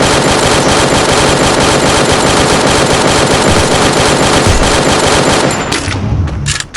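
Gunfire in the video game Free Fire comes as a loud, dense, continuous burst of rapid shots that fills the whole stretch, then cuts off abruptly near the end.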